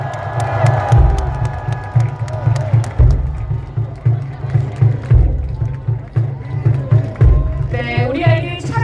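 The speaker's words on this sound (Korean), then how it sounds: "여러분 큰 박수 보내주시기 바랍니다" A large crowd cheers and claps at a presidential campaign finale rally for a candidate outside Seoul City Hall. The sustained applause and shouts come with heavy rhythmic low thumps, and a voice comes through near the end.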